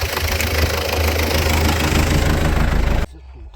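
An MTZ-80 tractor engine running during corn sowing, a loud, close, steady diesel rumble with a knocking pulse that cuts off sharply near the end.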